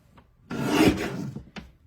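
A paper trimmer slices through a sheet of paper in one smooth, close rasping stroke of about a second, followed by a short click.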